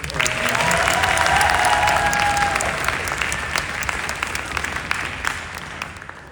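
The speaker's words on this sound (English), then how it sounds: "a round of applause for all four of our upcoming performers." Sustained applause from a concert audience greets the four soloists of a high school symphony orchestra's senior concerto concert, dense and steady before tapering off gradually toward the end.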